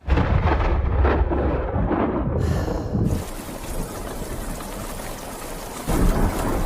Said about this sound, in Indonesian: tiba-tiba saja hujan turun membuat mereka berdua terpaksa harus berteduh dahulu menunggu hujan